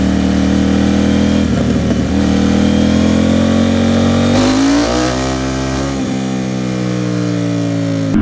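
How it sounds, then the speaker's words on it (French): A KTM 790 Duke motorcycle engine on a winter ride, loud and close throughout, holding a steady drone that swells and shifts pitch as the rider accelerates and changes speed. "Je vous ai laissé le petit son de la moto pendant tout le long."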